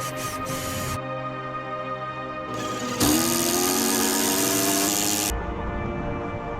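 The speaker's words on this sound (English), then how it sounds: "At the rear end, I will pre-drill and drive in this massive 200mm coach screws." A power driver whirs loudly in several bursts driving 200mm coach screws into pergola timber, motor pitch rising as it bites, close by and continuous for a few seconds at a time.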